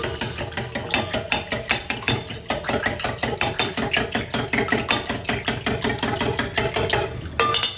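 Rapid, steady rhythmic clacking of a whisk or fork beating eggs and milk in a bowl, fast repeated strokes close to the microphone, pausing briefly at the end.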